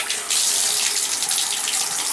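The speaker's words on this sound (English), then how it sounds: "We'll try to put a little water in there" Water pours steadily from a tap into a bathtub with a clogged tub-shower drain, a close, continuous hissing rush.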